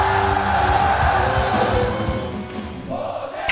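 Soldiers at an army training center worship rally shout and cheer together in a packed hall, a loud sustained roar of voices that eases slightly toward the end.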